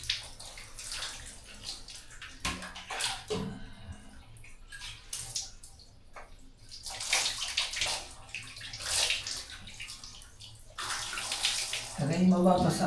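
Heated water is poured by hand for a bath at home, splashing and gushing in uneven bursts with short pauses, while voices talk intermittently.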